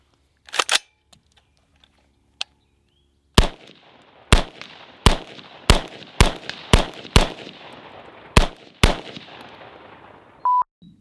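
Rifle firing 90 grain rounds through a 3D printed NERO 556 muzzle brake: around nine sharp, loud shots, mostly evenly spaced after an early double crack, each with a short ringing decay, no talking.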